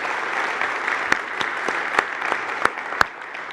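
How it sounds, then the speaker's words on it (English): An audience at a Hyperledger closing session applauds the event team with steady, moderately loud clapping throughout, and a few sharper individual claps stand out near the listener. "the entire team, deserve a big round of applause"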